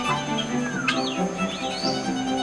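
Birds call at KL Bird Park in Kuala Lumpur: several sweeping, whistled chirps rise and fall over a steady hum of aviary background noise, fairly close and with no talk.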